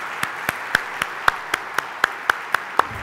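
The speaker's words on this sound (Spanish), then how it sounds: "un aplauso para nuestros tres oradores" Sparse applause for three speakers at the close of a public talk on liberty: a handful of evenly spaced, crisp claps at a steady rhythm, near and distinct over a quiet room.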